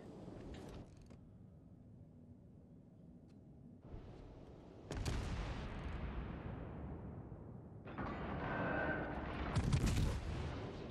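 Warship gunfire in World of Warships Legends: a few loud booming salvos, with a big blast near five seconds and another heavy burst around ten seconds, separated by quieter rumbling game ambience.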